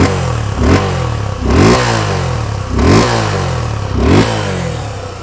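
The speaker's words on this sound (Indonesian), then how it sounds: "Mesinnya halus banget" A 250 cc motorcycle engine with a dual exhaust outlet revs in four loud, close bursts about a second apart, each rising and falling over a throaty idle, with no talking.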